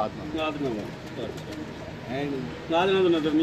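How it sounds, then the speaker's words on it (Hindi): Pigeons coo repeatedly up close on a Karachi rooftop, soft rolling calls rising and falling, with people talking around them. "ये साधने वाले कबूतर।"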